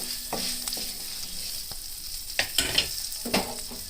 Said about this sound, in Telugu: ఇప్పుడు కొంచెం పసుపు వేద్దాము. పసుపు వేసి మొత్తం పెట్టినట్టు చేసి